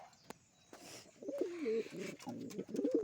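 Pigeons coo softly and repeatedly at close range, low throaty warbling calls over faint background noise.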